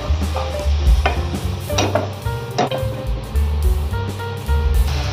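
Turmeric, ground coriander and cumin go into a hot pan along with a splash of water, crackling and sizzling loudly while a utensil stirs and clinks against the metal in uneven bursts. Nobody talks.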